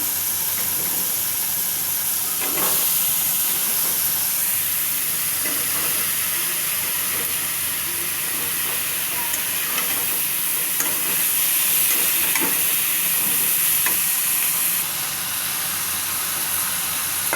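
Taro stolons (kochur loti) fry with spices in a pan, giving a long, even sizzling hiss with occasional faint crackles. The sound stays steady and close throughout, with no speech.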